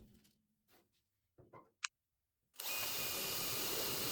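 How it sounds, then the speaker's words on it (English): After a few faint clicks and taps, a power drill kicks in and whirs steadily and loudly until the end, drilling alignment holes in the floor pan of a 1964 Impala SS. "And now I am drilling a couple of alignment holes."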